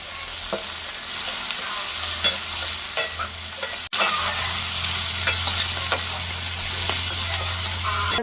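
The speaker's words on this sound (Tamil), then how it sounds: "வெங்காயம் கொஞ்சம் பொரிஞ்சு வரும் பொரிஞ்சு வந்தால் தான் எங்களுக்கு வாசமாயும் சுவையாயும் இருக்கும்" Onions fry in a pan with crushed cinnamon bark, stirred steadily with a spoon, giving a continuous close sizzle broken by scraping strokes and a brief dropout partway through.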